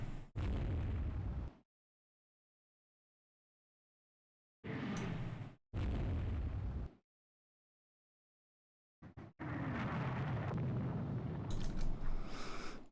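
Warship secondary guns firing in Rule the Waves 3, separate booming bursts with silence between them: two shots early on, a close pair near the middle, then a longer rumbling volley toward the end.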